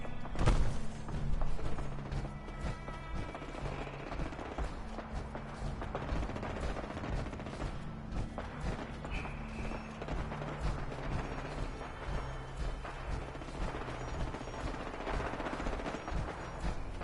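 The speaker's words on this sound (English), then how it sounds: "A lot of gunfire over there." Rapid, sustained bursts of automatic gunfire in Fallout 4 crackle almost without pause, layered with heavier thumps and mechanical clatter.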